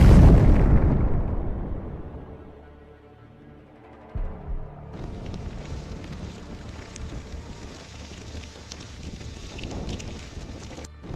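A HIMARS missile strike hits a BM-21 Grad rocket launcher, producing a loud opening blast whose rumble fades over a few seconds. Wind buffeting on the microphone and distant rumbling follow.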